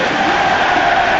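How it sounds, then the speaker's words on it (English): Leicester fans cheering in a Premier League stadium crowd, a dense, loud, continuous roar of voices filling the brief moment. "the loud cheers of approval from the Leicester fans"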